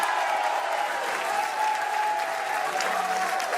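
Crowd at a PBA bowling championship stepladder final, loud sustained cheering and clapping filling the whole moment from a dense audience, with a faint voice underneath.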